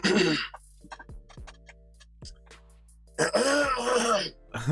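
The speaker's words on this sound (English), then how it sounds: "Let me clear my throat." A man clears his throat loudly and gruffly, with scattered clicks and ticks in between, then a longer raspy vocal burst.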